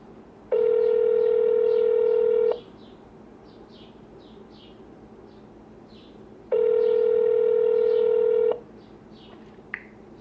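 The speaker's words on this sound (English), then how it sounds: "So I'm gonna call. Hopefully he'll pick up." Phone ringback tone on an outgoing call that goes unanswered, two long steady buzzing rings about four seconds apart, with faint bird chirps in the background and no talk.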